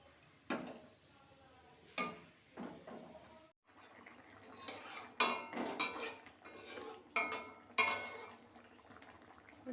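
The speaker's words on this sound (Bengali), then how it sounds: "ফুলকপি আলুর তরকারিটা বসিয়ে দিয়েছি" Pots and utensils clank and scrape during cooking of a cauliflower and potato curry, with sharp metallic knocks and stirring scrapes at irregular intervals, near and fairly quiet, with no talking over them.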